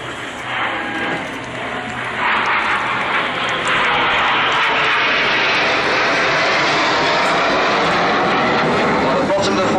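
Red Arrows jets fly past in Vixen formation at the 2012 Farnborough airshow, a loud, continuous broadband jet roar that swells early and then holds strongly through the whole pass.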